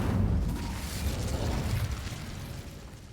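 A fiery burst from the Incendio spell in a Harry Potter video game, a broad rushing whoosh with a low rumbling boom at the start that stays fairly steady and fades slightly, quiet overall.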